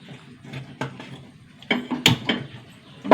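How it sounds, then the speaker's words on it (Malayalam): A lid set on a cooking pot of vegetable curry, heard as a short series of close metallic clatters and knocks with quiet gaps between them. "മൂടി വയ്ക്കാം."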